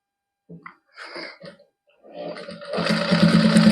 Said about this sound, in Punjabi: ਹੁਣ ਸਲਾਈ ਲਾ ਦਿੰਨੇ ਆ